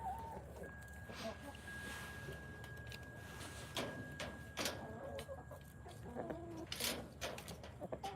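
Chickens clucking inside a coop, with scattered soft clucks and rustling, a few sharper calls, and people talking quietly in the background.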